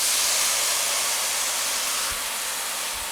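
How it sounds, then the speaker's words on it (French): Chopped leeks in a hot pan are deglazed with white wine, producing a loud, steady, broadband sizzle and hiss that continues without a break for about three seconds, with no voices. "On va maintenant déglacer avec le vin blanc."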